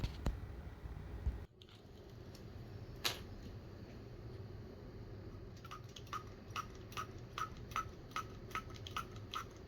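Perfume is refilled into a travel atomizer. A few soft clicks come first, then a quick series of small, crisp pumping ticks, all close and quiet over a low room hum.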